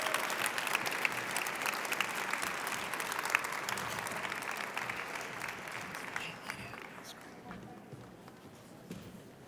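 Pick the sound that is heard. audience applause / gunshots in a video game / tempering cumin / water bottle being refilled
audience applause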